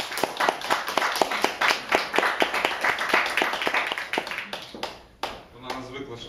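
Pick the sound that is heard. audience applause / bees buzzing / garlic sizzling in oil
audience applause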